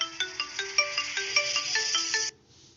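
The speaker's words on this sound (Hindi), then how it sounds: "यहाँ पर बहुत सारी रिंगटोन्स वगैरह बनकर मेरे पास आ गई हैं। आप यहाँ से चला कर चेक कर सकते हैं।" Custom ringtone playing on a phone: a quick melody of bright, chiming electronic notes, about a dozen in a rising and falling pattern, sounds for a little over two seconds and then cuts off abruptly.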